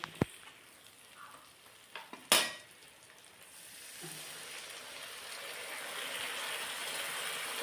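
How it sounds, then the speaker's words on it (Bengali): Pointed gourd (potol) frying in a pan, starting with a few knocks and a sharp clatter, then a soft sizzle that swells into a steady, hissing fry. "একটু ভেজে নিতে হবে"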